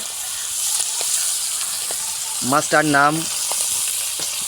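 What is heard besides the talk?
shimul tangra river fish frying in oil in a wok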